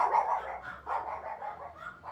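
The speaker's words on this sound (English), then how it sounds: "I'm sorry about the dogs barking" Dogs bark indoors at some distance, sounding muffled and fairly faint, with a few short overlapping yips and barks and no speech.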